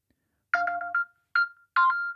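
A Samsung phone rings after being triggered by the find-phone function on a Galaxy Watch 8, sounding a melodic ringtone in three short bursts, clear and close, with no talking.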